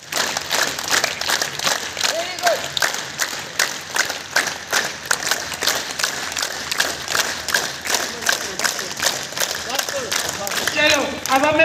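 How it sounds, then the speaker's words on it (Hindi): Yoga participants at an International Yoga Day session in a district jail in Poonch clap together in a steady, fairly close patter, with voices talking and calling out over the clapping. "चलो आप सब अपने लिए ताली।"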